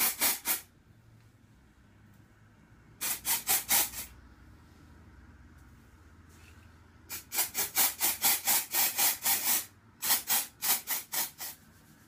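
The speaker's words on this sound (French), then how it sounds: "Je frotte bien mon cuir chevelu pour retirer l'excédent de produit" Fingers vigorously rubbing dry shampoo into the scalp and hair at the roots, close rhythmic scratchy strokes in several bursts separated by quiet pauses.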